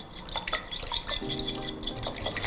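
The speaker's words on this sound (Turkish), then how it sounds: "Şöyle çırparak yumurtayı iyice açıyorum" Egg being whisked with hot sauce in a bowl for chicken katsu breading, a quick, steady clatter of utensil against the dish, close and moderately loud with no talking.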